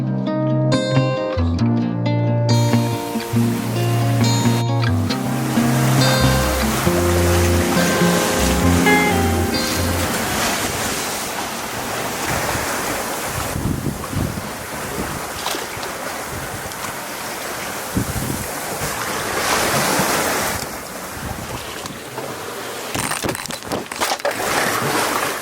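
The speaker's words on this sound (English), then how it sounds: "Thought the sea was going to be much rougher in here, so it's nice that Nandji can kind of power over the top of them." Sea waves wash around the sailing yacht Nandji under way on open water. A few seconds of music open, then a continuous loud rushing surge with rising and falling swells.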